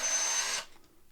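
A Ryobi cordless drill spins freely with a fresh bit fitted, giving a steady high whir that cuts off abruptly after a moment and leaves near silence.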